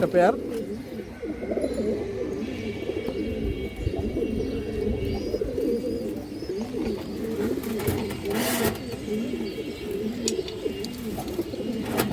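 A pair of big Indian high flag pigeons coo in continuous rolling, throaty bursts close by, with people talking over them.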